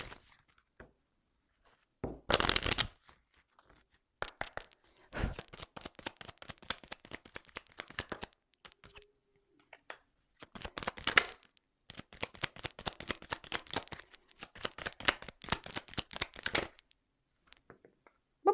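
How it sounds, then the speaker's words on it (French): Tarot cards being shuffled and drawn: repeated bursts of riffling and rustling card stock separated by quiet gaps, close and soft, with occasional taps as cards are set down. "je vais prendre quelques cartes, juste 3 cartes"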